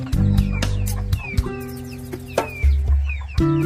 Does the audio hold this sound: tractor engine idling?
no